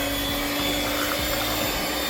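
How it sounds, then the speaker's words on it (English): Electric hand blender whirring continuously while mixing ground blended beans for akara, a loud steady motor drone with a constant pitch and no talking. "We'll go ahead to use a hand blender to mix it properly."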